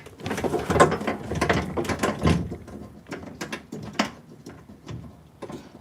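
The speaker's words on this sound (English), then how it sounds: "And then you can spin the motor on your own." A power window motor on a car door regulator is spun by hand, giving a ratcheting, gear-grinding mechanical whir in irregular bursts with clicks, close and moderately loud.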